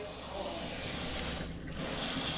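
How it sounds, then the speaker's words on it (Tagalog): A steady, strong rush of water pours from a tap, loud and continuous from start to finish. "Okay na, malakas na yung tubig."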